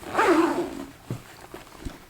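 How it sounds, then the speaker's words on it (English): A zipper on an internal pocket of a Rough and Tumble Borough bag is pulled in one quick, fairly loud rasping stroke, followed by a few soft handling knocks. "So it zips all the way across the back of the bag."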